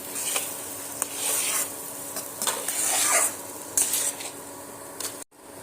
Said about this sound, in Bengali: এখানে নাড়তে নাড়তে কিন্তু সুজিটা আমার এখানে সম্পূর্ণ একদম এইভাবে আলাদা হয়ে যাচ্ছে